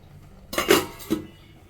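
A metal lid set down on a pot of simmering fish curry, giving two brief clinks about half a second apart, close and fairly loud, with no talking.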